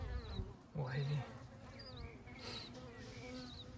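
Honeybees buzzing around a hive in spring, a steady swarm-like hum close by with bees passing near, one lower brief drone standing out early, and faint birds chirping behind.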